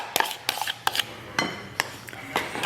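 A utensil stirs lemon juice into wet ingredients for a bread batter in a bowl. It gives a quick, irregular series of close clinks and taps against the bowl, with no talking.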